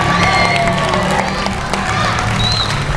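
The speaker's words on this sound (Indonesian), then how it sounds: "Beri tepuk tangan dulu dong" Audience at a morning motivational talk clapping and cheering loudly throughout, with shouts and whoops mixed into dense applause.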